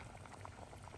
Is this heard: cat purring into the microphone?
no